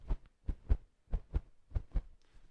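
Heartbeat effect produced by rubbing a t-shirt against a microphone: soft, low, thumping double beats repeating steadily, close and muffled, with nothing else heard.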